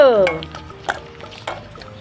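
Colourful papad crackle and sizzle in hot oil in a kadai, with soft stirring scrapes and a few sharp clinks of a utensil against the wok, close and moderately loud.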